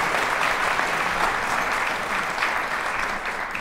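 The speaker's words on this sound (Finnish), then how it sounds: "Aplodit vielä kerran" An audience applauds after the international category finale of a piano chamber music competition, a full, even roar of many hands clapping steadily throughout, loud and unbroken.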